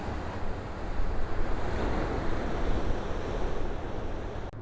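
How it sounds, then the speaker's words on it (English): Rough ocean surf roars continuously nearby on the coast at Piñones, Loíza, Puerto Rico, a dense wash of breaking water mixed with gusty wind noise on the microphone. "as you can see how rough the ocean is"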